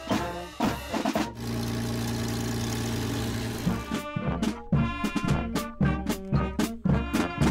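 Avro Lancaster bomber engines idle on the ground, a deep heavy rumble that holds steady, then breaks into loud rhythmic pulsing bursts of engine noise.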